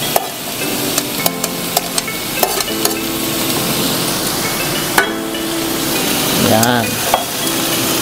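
Long beans go into a pan of pork and squash simmering in coconut milk, with scraping stirs, several sharp utensil knocks against the pot and a soft bubbling sizzle underneath, plus a brief spoken word.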